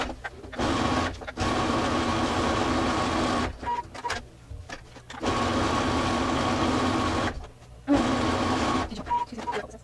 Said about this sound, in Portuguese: Também vou reforçar essa costura na reta.